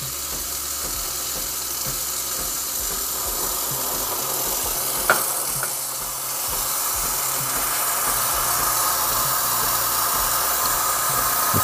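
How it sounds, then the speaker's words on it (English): A Breville Barista Express steam wand fitted with a 3-hole tip steaming water, giving a loud, continuous close hiss that holds steady throughout, with no voices. "Okay, it's just steaming the water."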